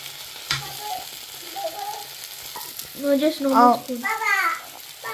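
Recharge masala spice paste frying in a pan over a slow flame in a Goan home kitchen, a soft steady sizzle with voices talking over it, including a child's.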